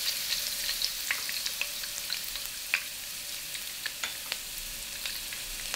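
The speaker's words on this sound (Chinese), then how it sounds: "炒出姜味" Shredded ginger stir-frying in hot oil in a heated wok: a steady hiss of frying peppered with frequent sharp crackles and pops scattered irregularly throughout.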